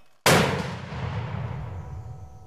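A single mortar round fired during the Fuji Viper 21.4 live-fire exercise: one sharp, loud close-range blast followed by a long, rumbling, echoing decay across the range.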